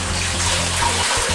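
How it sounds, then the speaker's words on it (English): About a litre of oxygenated water is poured into a foam box, making a continuous close splashing gush that runs unbroken from start to finish. "we're going to take about a litre of water, oxygenated water, got a litre there, just going to pour that in"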